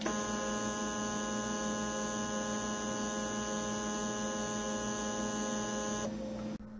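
A 3D printer's Z-axis stepper motor, driven by an MKS Gen 1.4 board, moves 10 millimeters with a steady, loud tonal whine and hum that holds for about six seconds before cutting off abruptly.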